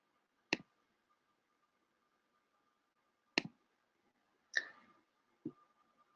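Sharp, isolated mouse clicks in software while confirming a purchase order, four crisp clicks spaced a few seconds apart against near silence.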